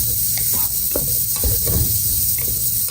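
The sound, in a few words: green chillies sautéing in oil in a pressure cooker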